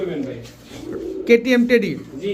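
Pigeons coo up close at a pigeon market, giving low, throaty rolling calls.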